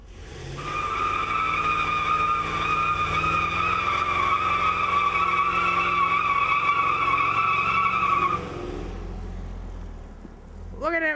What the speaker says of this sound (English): Try to do a brake stand. Your one tire did it! One wheel peel!